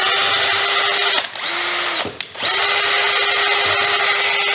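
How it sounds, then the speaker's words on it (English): A power drill with a bit in its chuck whirs loudly at high speed, briefly winding down and back up twice before running steadily again. "But if you take and chuck this into your drill chuck,"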